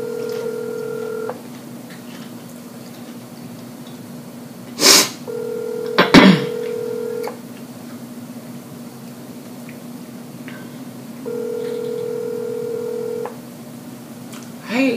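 Phone ringback tones repeat at steady intervals over a quiet line, broken by a couple of sharp clicks or knocks near the middle.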